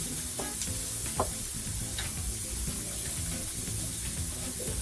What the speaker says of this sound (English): Let that sizzle for a while.